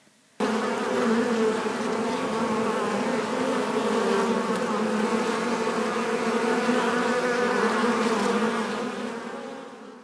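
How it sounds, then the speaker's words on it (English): Hundreds of flies swarming inside a closed cottage make a dense, steady buzzing drone, close and continuous for about ten seconds, with no voices. "The cottage was buzzing with hundreds and hundreds of flies"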